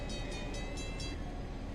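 A coal train with two engines rolls along in the Trainz 2022 simulation game, a steady broad rumble with faint repeating clicks near the start.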